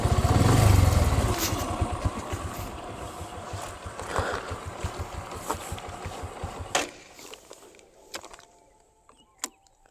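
A motorcycle engine revs up as the bike pulls away on a hill road near Bettadapura Mallikarjuna hill, loud at first with a rapid throbbing pulse, then fading into quieter road noise with faint knocks.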